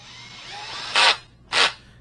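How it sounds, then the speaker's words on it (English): Screws being fastened into a mid-back office chair's pedestal arm with an Allen wrench, two short, close bursts of metallic turning and scraping separated by a brief pause. "using the included Allen wrench or the appropriate size driver, install the screws."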